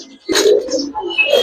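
Giribaz pigeons coo close by in a low, throaty, rolling call lasting just over a second, with a faint higher rustle above it.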